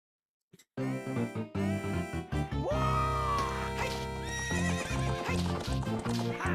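A horse in The Legend of Zelda: Ocarina of Time 3D on the 3DS gives a loud, rising and falling neigh with game music and sound effects, after a brief silent start.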